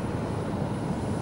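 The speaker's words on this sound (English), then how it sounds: "United airplane taking off over there." A United airliner taking off from San Diego airport, heard from near the runway fence as a steady, loud, broadband jet engine roar that holds constant throughout.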